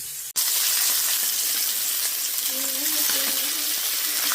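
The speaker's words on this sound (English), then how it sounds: "Your oil and butter is sizzling hot. We're going to add our fish inside up." Fish laid into hot, sizzling oil and butter in a pan: a steady, loud broadband sizzle after a brief dropout at the start, with faint higher tones drifting in near the end.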